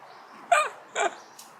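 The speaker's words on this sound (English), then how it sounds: "Look at this little dog." A little dog barks twice in quick succession, sharp and close, followed by a faint high yip, against a quiet background.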